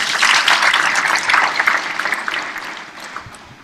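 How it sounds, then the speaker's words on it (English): An audience at the opening ceremony of the Tanzania International Model UN 2020 applauds a UNESCO representative with a dense, loud burst of clapping that slowly fades over a few seconds, with no voices. "A round of applause to him."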